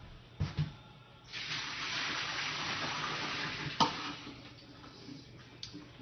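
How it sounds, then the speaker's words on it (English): Water pours and splashes steadily into a kitchen sink as it drains off grated potato and onion for kugel, with a few clinks at the start and partway through. "I'm going to drain this water."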